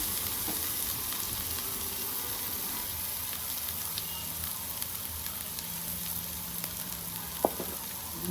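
Ginger garlic paste fries in a pan with a soft, continuous sizzle, gently stirred throughout, with one sharp clink of a spoon near the end; no talking.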